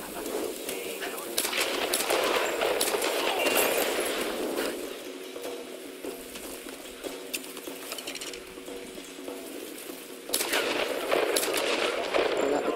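Gunfire in the Tomb Raider video game, with sharp shots and bursts rattling through a busy, layered game soundscape that stays loud from start to finish.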